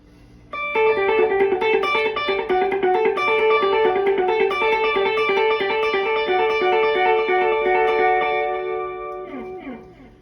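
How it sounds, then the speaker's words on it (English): An electric guitar plays a steady pulsing pattern through a rhythmic delay pedal on a pedalboard, repeating notes stacking into a shimmering, continuous groove that fades at the end. "the 5th one is a specific rhythmic delay"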